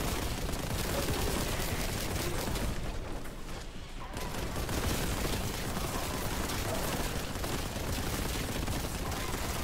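Rapid, relentless gunfire from the Warhammer shooter Boltgun, a dense, continuous stream of loud shots with one brief lull before the firing resumes at full intensity.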